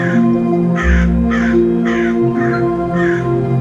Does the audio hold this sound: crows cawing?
yes